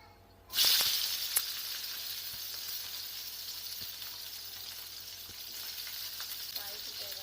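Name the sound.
frying ivy gourd curry ingredients in pan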